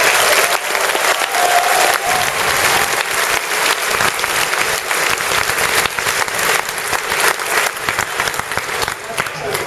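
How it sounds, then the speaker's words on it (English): A large convention crowd at PAX Prime 2011, at a Star Wars: The Old Republic stage event, gives loud, dense applause that fills the entire stretch with steady clapping and no break. "Give a loud round of applause."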